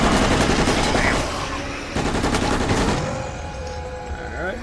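Submachine gun fire in the video game Resident Evil: Operation Raccoon City, dense rapid bursts filling the first few seconds, a brief pause, then another burst that fades into quieter game ambience.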